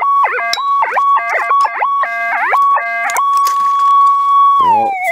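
Electronic warbling tones from a metal detector signalling a gold find outdoors, stepping through repeated rising and falling chirps, then holding a steady pitch before sliding down at the end, loud and close with no talk over it.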